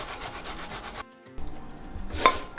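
Tomatoes rasped against a sharp grater for Moroccan harira, a close, steady scraping that stops briefly and then resumes with heavier strokes.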